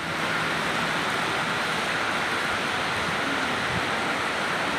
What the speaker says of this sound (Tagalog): Sinasabayan pa ng napakalakas na ulan